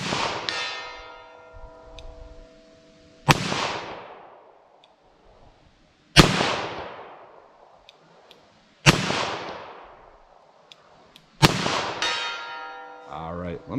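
.38 Special +P revolver shots ring out at an outdoor range, five loud sharp reports spaced a few seconds apart, each followed by a long metallic ringing decay as rounds strike a steel target.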